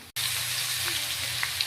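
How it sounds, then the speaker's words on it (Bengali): Spring potatoes fry in a pan and are turned over, making a continuous close sizzle and bubbling. A short break near the start is followed by a steady frying hiss and faint soft clinks, and a voice is heard faintly beneath it. "এবার আমি একটু উল্টে পাল্টে নিচ্ছি। ভাজা ভাজা হয়ে গেছে আমার।"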